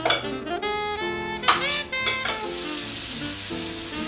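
Wild boar meat with herbs and garlic sizzles over high heat in a pan, a strong close frying hiss punctuated by metallic clinks and scrapes of utensils against the cookware.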